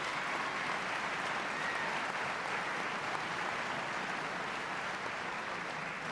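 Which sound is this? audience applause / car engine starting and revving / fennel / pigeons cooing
audience applause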